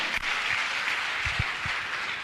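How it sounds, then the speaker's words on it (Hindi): Audience clapping at a religious question-and-answer gathering, a brief steady burst of applause from a crowd, fairly loud and even throughout with no speech over it. "अब तो ताली बजा दो।"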